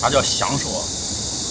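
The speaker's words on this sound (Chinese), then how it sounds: "听着这知了在这滋啦滋啦叫" Cicadas droning on a hot summer day in an ancient water town street, a steady high-pitched buzz running throughout, with a person speaking briefly over it at the start.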